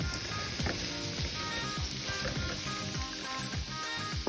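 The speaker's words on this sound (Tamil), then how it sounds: "இப்போ பாருங்கள், இது நல்லா வதக்கி இருக்கிறேன்" Ingredients for a creamy white kuruma sautéing in a pan, a soft continuous sizzle with repeated light scraping and stirring clicks at an even pace, fairly quiet and close.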